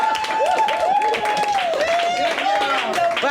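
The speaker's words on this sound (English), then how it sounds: "give her a round of applause" A crowd claps during a community social services event while a voice talks over it, so the applause is partly buried under the speaking.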